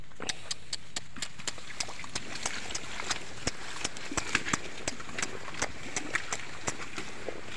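Steady, regular water buffalo hoofbeats clop along at a walking pace, each step a sharp knock, with faint background noise between them.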